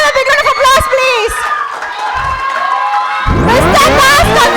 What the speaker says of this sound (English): May I have a big round of applause, please?